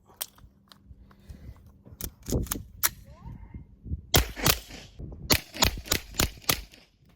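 A suppressed Makarov 9x18 pistol with threaded barrel and SilencerCo Omega 9K fires outdoors: a few spaced muffled cracks first, then a quicker run of sharp reports toward the end, with faint talk early on.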